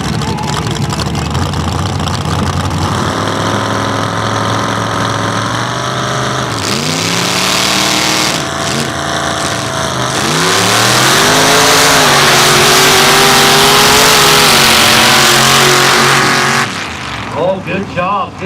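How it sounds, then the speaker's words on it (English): Mud drag truck with an IROC body and a 406 small block engine races at the 2018 NWMRA Valemount event, its engine loud and revving hard with rising shifts through a long run, while an announcer talks over it. "Got an IROC body, 406 small block in this thing."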